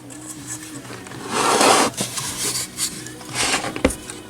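An Airline Montgomery Ward Model 74BR-1812A radio being flipped over, heard as close rubbing and scraping of its cabinet with a few knocks and clunks as it is handled and set down.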